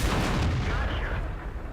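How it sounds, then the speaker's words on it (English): A T28 prototype tank cannon in a tank game fires a single heavy, booming shot that rolls on in a low rumble, loud and close. "T28 prototype is just fired"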